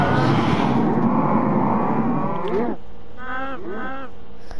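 Cows moo in the video game Minecraft: a long, loud, overlapping chorus of lowing at first, then a few shorter separate moos; no one speaks.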